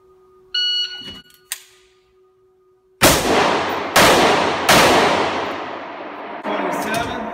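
Rifle shots in a three-shot drill, three sharp loud cracks about a second apart, each with a long ringing decay outdoors, preceded by faint electronic beeps and a click, with another report at the end.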